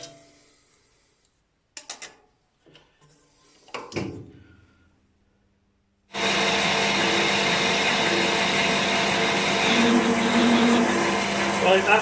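A metal lathe turns down a part for a 2-inch Fowler Showman's traction engine model, starting after several seconds of faint clicks and handling noises, then running as a loud, steady broadband cutting drone to the end.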